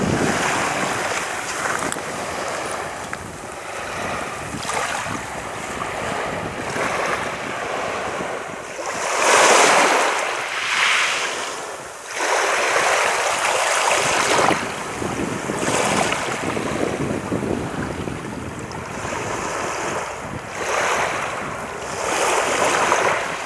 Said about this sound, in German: Hört euch einfach mal die Wellen an.